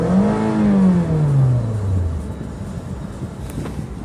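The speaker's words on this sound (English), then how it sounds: "Let me rev the engine for you." A 2007 Toyota RAV4 engine revs once up close, the pitch climbing and then falling back toward idle over a few seconds, loud and alone with no talk.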